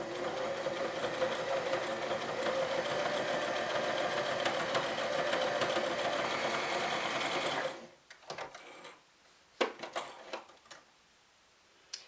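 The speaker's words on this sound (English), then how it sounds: "it also can stitch through these stretch knits" A beginner's sewing machine runs a middle-width zigzag stitch through stretch knit fabric, a steady close whirring for several seconds that stops abruptly, followed by scattered clicks and handling sounds.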